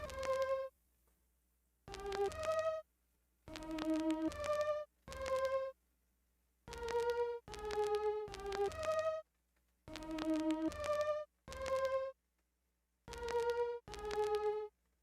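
A synthetic string melody in a trap beat made in FL Studio plays in short bursts of notes separated by brief silences, bright and upfront with no voices.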